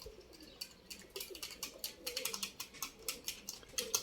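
Gathered domestic pigeons coo in soft, repeated throaty pulses, with brief clicks and chirps mixed in, fairly quiet and close, and nobody speaking.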